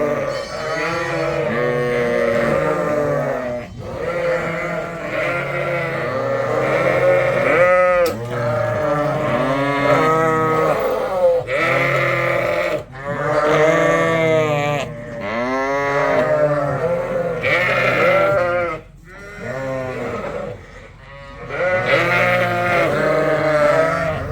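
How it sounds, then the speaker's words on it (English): Lambs and ewes bleat loudly and almost nonstop as the lambs are loaded onto a livestock trailer, with many overlapping close calls of different pitches and only short pauses. "Then load the lambs onto the trailer."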